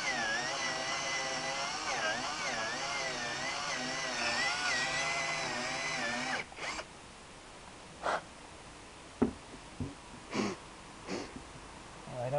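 Cordless drill fitted with a hole saw cutting into a truck cab mount, a loud whining motor with wavering pitch for about six seconds, then a few short bursts and knocks.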